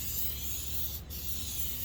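Aerosol spray paint can hissing onto a 3D-printed PLA background in black and blurple, a steady close broadband spray held about six to seven inches away, with one momentary break near the middle.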